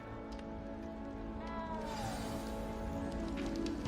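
A small cat meows faintly in the video game Hogwarts Legacy over a steady rain-like background hum.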